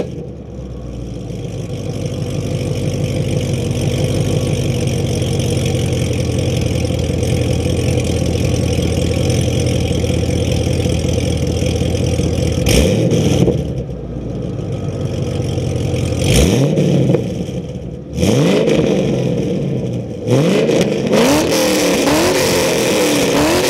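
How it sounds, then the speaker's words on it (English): An LS3 V8 with headers, full exhaust and stock MPP mufflers idles with a deep burbling drone, then several sharp throttle blips rev up and fall back, loud and close. "how those Mpp mufflers with headers and a full exhaust sound"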